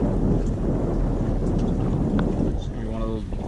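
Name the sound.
wind blowing over a drifting fishing boat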